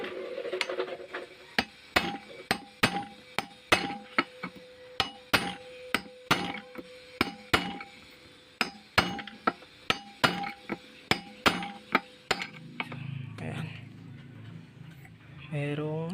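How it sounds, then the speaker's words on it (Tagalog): A hammer pounds the knuckle bearing on a Rusi DL150 motorcycle, landing about twenty sharp metallic blows at a steady, fairly quick rhythm before the striking stops and only low background noise remains. "kailangan mo lang talaga siyang tiyagain na pukpukin, no, para umangat siya"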